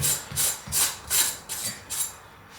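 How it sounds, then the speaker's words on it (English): A knife scrapes dirt off pork belly skin in six steady, rhythmic rasping strokes, close and fairly loud, with no voices. "Not much dirt, but yeah, still need to give it a good scrape"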